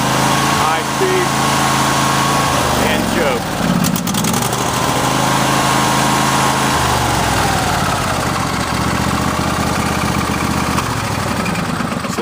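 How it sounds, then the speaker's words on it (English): A small Briggs & Stratton engine runs at high speed with the choke on, a loud steady mechanical drone that shifts pitch partway through as the throttle changes, filling the whole stretch close to the mic. "I'll put it on full speed with choke again here."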